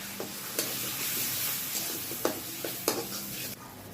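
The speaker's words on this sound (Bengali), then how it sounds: "মশলাটাকে ভালো মতো কষাই করবে" Spices with salt, turmeric and chili powder frying in a pan for a pumpkin and puti fish dish, a constant soft sizzle broken by sharp spatula scrapes and taps against the pan.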